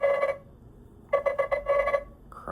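A Nothing Phone (3A) Pro ringtone plays loud and close: a bright tonal burst, a pause, then a quick run of repeated chiming notes before a new tone starts at the end.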